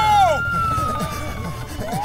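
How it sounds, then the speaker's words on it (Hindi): A wailing police siren sweeps up and down in a cartoon chase scene, loud and close, with a voice briefly heard underneath. "पता नहीं क्यों पुलिस का सायरन सुन के पैर अपने आप भाग चले।"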